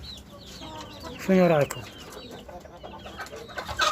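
Chickens kept on a rooftop cluck and call, with one loud close squawk near the middle and softer clucks around it, while a person speaks briefly.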